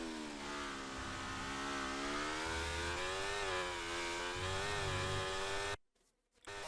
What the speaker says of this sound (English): even though I'm doing the same full throttle input, the RPM drops from the car and becomes less prominent.